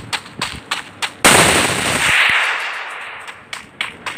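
Bursts of video-game gunfire in a Free Fire ranked Clash Squad match: a string of sharp single shots, then a loud sustained blast of fire that trails off, with more scattered shots near the end, close and with no talk.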